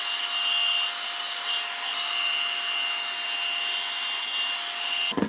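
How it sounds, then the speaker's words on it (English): A hair dryer blows steadily on hair, a loud, constant airy whine with a fixed tonal hum, running nonstop before cutting off abruptly at the end. "So I'm going to take my blow dryer and try and dry it a little bit"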